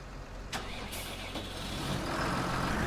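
A steady mechanical wheel loader engine hum in Farming Simulator 19 drones throughout, growing slightly louder toward the end, with a couple of brief sharp clicks near the start.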